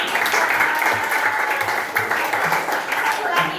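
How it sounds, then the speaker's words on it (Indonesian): Classroom children clap together for a classmate at a teacher's prompt, a brisk, fairly close burst of many small hands with a rhythmic patter running through it. "Kasih tepuk tangan"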